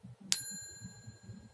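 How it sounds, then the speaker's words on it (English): A single bright bell ding used as a subscribe-button sound effect rings out sharply and decays with a long shimmering tail, heard over a low, steady voice. "click the little bell"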